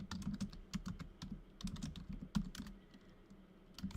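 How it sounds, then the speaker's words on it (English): Rapid, uneven keystrokes on a computer keyboard clatter in close bursts with short pauses, a steady run of clicks heard alone without talk. "I'm glad you like the typing noises."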